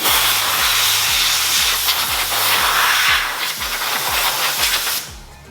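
A strong, steady hiss of compressed air blasts continuously over a rhythmic mechanical thumping, then cuts off near the end, as air blows powder coating off a brake caliper.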